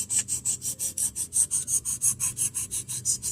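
A pocket knife is sharpened freehand on a flat stone, with steady back-and-forth rasping strokes, about six per second, close and even, with no voices.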